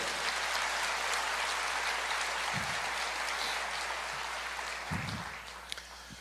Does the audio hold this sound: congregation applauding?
yes